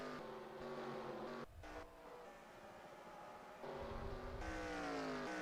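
Race car engines from NASCAR Racing 2003 at Dover, a steady loud high-pitched whine with shifting tones, a brief dip mid-way as one car pits, then the roar swelling again.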